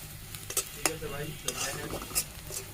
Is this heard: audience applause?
no